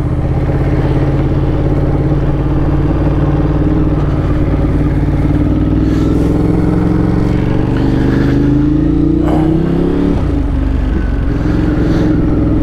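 A motorcycle engine with a freshly repaired radiator runs loud and close with a constant rumbling drone, its pitch rising steadily toward the end before falling off.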